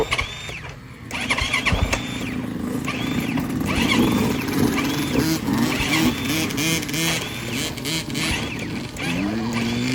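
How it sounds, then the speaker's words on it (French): A temperamental motorcycle at a motocross track is started early in the morning: a whirring attempt to crank it, then the engine catches and runs unevenly, its rough mid-pitched drone fluctuating and revving steadily for several seconds, close by. "On va démarrer la moto."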